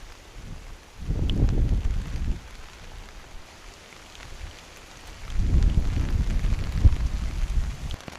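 Rain pattering on a tent in Alaska, a soft, steady hiss under two louder rumbling gusts of heavier drumming on the fabric, with no talk.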